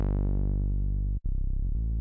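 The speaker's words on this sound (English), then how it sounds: "The bass that I just pulled up sounds like this." A deep sub bass note from a Serum synth preset with its top end filtered out holds steady and smooth, briefly cutting out before resuming alone.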